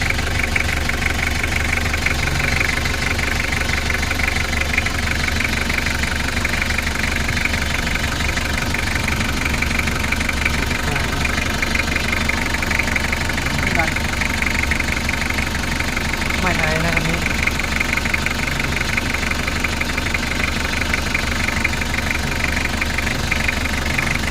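A van engine idles continuously nearby, a steady rumbling with a faint knocking rattle that persists throughout.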